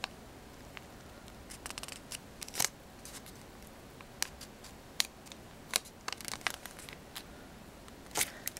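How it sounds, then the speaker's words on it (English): Soft, intermittent crinkles and crisp taps of a paper square being handled and folded into a triangle for an origami star box, quiet and close with scattered sharp creases against a low background hiss. "what you want to do is take it with the blank side up and fold it into a triangle"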